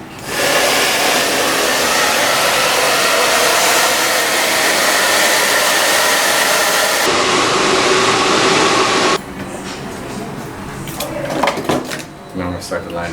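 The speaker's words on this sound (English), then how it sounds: "Warm blow dryer on light." A barber's hair blow dryer on a warm, light setting whooshes loudly and steadily, then cuts to quieter clinks and handling sounds near the end.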